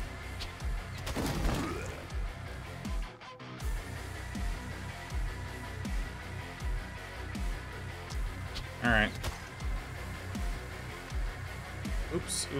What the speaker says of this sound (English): I'm shooting this guy.